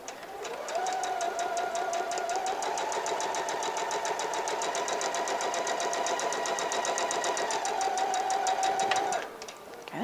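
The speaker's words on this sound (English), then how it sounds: "I'm going to sew a 1/4 inch from that line that I've drawn on there" A sewing machine stitches a quarter-inch seam through quilt fabric, a close, steady rapid clatter running for several seconds before stopping abruptly.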